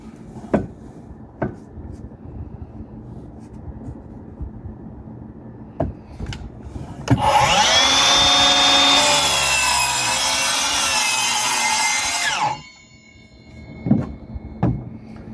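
A miter saw chops through a laminate flooring plank in one loud, sustained cut of about five seconds, ending abruptly, with quieter workshop clatter and light taps before and after.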